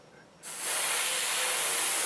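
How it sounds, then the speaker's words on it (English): A spray gun sprays candy colour paint, starting abruptly as a loud, steady hiss and holding alone after a brief quiet lead-in. "And it says to spray at slightly lower pressure"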